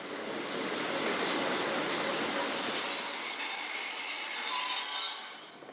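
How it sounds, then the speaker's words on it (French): A railcar creeps into Gare de l'Est toward the buffer stop, its wheels squealing in a loud, sustained high-pitched screech over a rumbling rail roar that fades as it comes to a halt. "l'autorail effectue lentement les derniers tours de roue qui le séparent du butoir"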